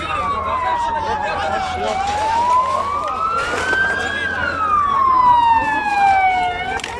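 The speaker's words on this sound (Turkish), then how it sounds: "geliyor avrandı itfaiye geliyor." A loud wailing fire engine siren at a road crash scene in southern Turkey rises and falls in long sweeps, close by, over traffic noise and faint background voices.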